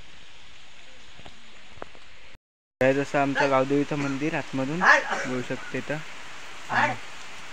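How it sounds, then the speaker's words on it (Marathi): Rain falls over a forest near a natural waterfall, a soft continuous hiss that carries on faintly beneath someone talking nearby. "आता आलाय पाऊस."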